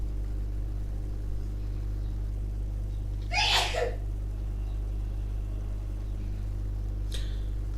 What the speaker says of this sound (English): That was my mum sneezing.